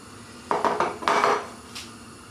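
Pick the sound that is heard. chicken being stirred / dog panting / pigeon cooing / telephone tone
chicken being stirred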